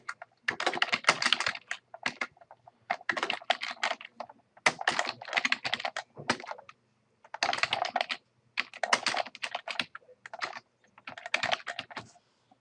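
Bursts of rapid typing on a computer keyboard, close and clear, coming in several runs separated by short pauses.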